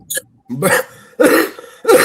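Three harsh, close coughs in quick succession, each a rough burst of throat noise separated by brief pauses.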